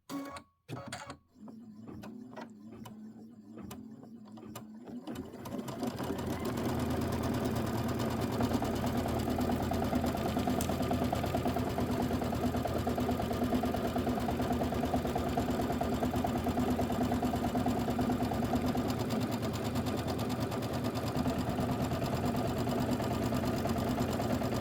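Sewing machine quilting the borders of a Kimberbell Pumpkins and Potions quilt, starting with a few sharp clicks and then settling into a continuous, steady mechanical hum and whir that runs loud and even throughout.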